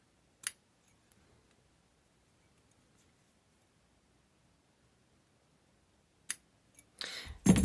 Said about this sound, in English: Want some nice sharp little scissors.